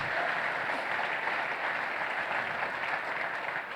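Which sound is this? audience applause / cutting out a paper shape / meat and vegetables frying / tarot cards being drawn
audience applause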